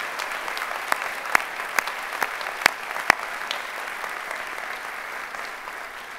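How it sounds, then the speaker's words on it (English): A ceremony audience at a university presidential investiture applauds steadily, a dense wash of clapping with a few sharper individual claps standing out, continuing evenly before easing slightly at the end. "Let's give them another round of applause."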